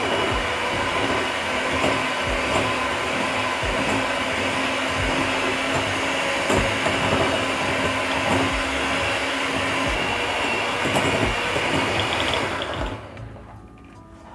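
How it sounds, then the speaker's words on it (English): An electric hand mixer beats sugar and margarine in a bowl for chocolate loaf cake, a steady loud motor whir with a rattling, scraping texture that runs continuously and cuts off near the end. "Then I'm going to use my mixer and mix the sugar and margarine until combined."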